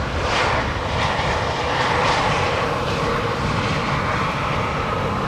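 An airliner arriving at Amsterdam Schiphol roars steadily overhead, a loud, continuous broadband engine noise with no pauses across the few seconds.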